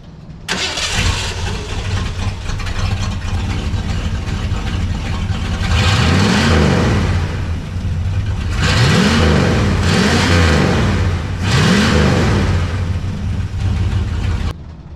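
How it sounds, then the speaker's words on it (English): A race-built tuff truck engine cranks and fires up, then settles into a steady idle broken by several throaty revs that rise and fall, loud and close. "Hopefully she revs up now."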